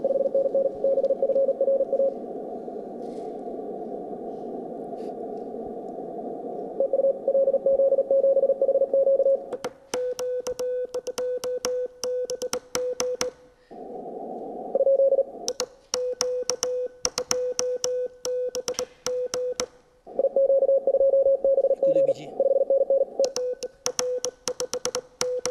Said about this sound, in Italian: Con mezzi di fortuna abbiamo costruito un tasto telegrafico e vediamo se ci sentono